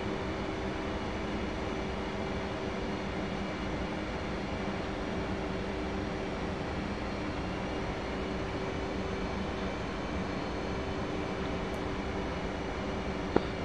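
F/A-18C Hornet jet engine in the DCS World flight simulator, a steady broadband roar with a faint whine, continuous and even at moderate level, no talk.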